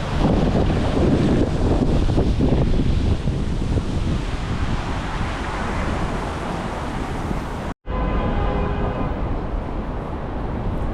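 Strong wind buffets the microphone by a harbour, a loud, continuous roar with one brief cut near the end before the gusting resumes.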